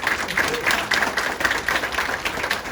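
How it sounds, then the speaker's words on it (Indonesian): A crowd at a leadership sharing event in Jakarta claps along in a fairly rhythmic, pulsing beat, many hands striking together in close, loud bursts. "tepuk tangannya kurang kalau setuju ya"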